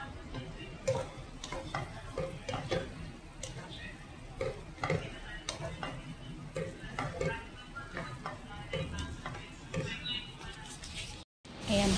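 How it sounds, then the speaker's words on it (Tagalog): Anchovies cooking with tomato in a pan, with a soft sizzle under repeated clicks and scrapes of stirring, fairly quiet and close, ending in a brief break. "Luto po ako ng kinamatisang dilis."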